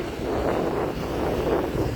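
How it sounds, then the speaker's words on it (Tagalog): Strong sea waves surging and wind buffeting the microphone on a beach, a steady loud roar that continues throughout with no voices. "bakit naman kasi malakas ang alon?"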